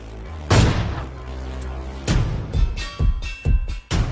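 Several loud gunshot bursts in the Free Fire video game, with a big blast near the half-second mark and a string of sharp reports toward the end, layered over a sustained low game hum.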